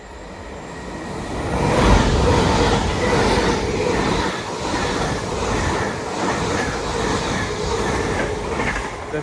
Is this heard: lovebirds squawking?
no